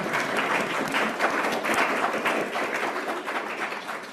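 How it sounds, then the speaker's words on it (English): Steady applause from a workshop audience, many hands clapping evenly and fairly close for the whole stretch, with no talking over it. "Lots of applause here."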